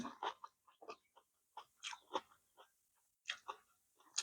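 Close, crisp crunching of very crispy Thai pork cracklings (kaep mu) being chewed, a rapid run of sharp bites and crackles with short pauses in between, heard alone.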